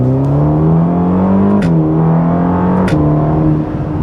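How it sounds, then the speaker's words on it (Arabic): Ferrari Roma accelerating hard from the cabin, a loud deep engine note climbing steadily, dropping at two quick gear shifts with short crisp pops, then pulling again, no speech. "لاحظتوا الغيارات؟ وطبعا اذا لسه ما سمعته، الصوت فيها ايضا مميز."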